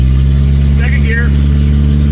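Engine of a 1986 Toyota Tercel 4WD wagon with an automatic transmission, a steady loud low drone running through a short stretch of driving as the car moves through the gears, with a voice speaking briefly over it.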